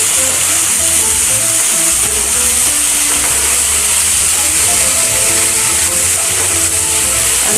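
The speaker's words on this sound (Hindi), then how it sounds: "अब हम इसमें कटी हुई सब्जियाँ डाल देंगे। सब्जी को प्याज के साथ" Chopped vegetables hiss and sizzle steadily in a pan of browned onions for a potato and bean curry, a loud continuous fry with faint background voices or music underneath.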